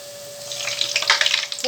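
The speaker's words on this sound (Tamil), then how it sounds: "இப்போ ஒரு கடாயில் ஆயில் வச்சுருக்கேன். ஆயில் காய்ச்சிருச்சு. இப்போ நம்ம இந்த பூரியை நம்ம இதோடு சேர்த்திக்கலாம்." Puri frying in hot oil in a kadai gives a steady, close, bubbling hiss that grows busier and crackly over a couple of seconds, with no talking.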